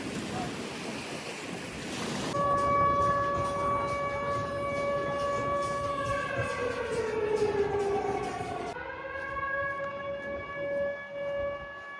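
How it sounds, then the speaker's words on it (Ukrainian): A wailing air raid siren in Chornomorsk holds steady tones that bend downward and then settle, sounding from a distance over wind and water noise near the sea. "Зараз оголосили повітряну тривогу"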